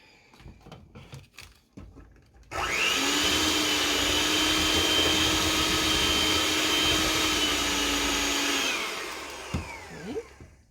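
An electric mixer whirs loudly and steadily for about six seconds as eggs are beaten into chocolate batter, with brief clattering before it starts and after it stops.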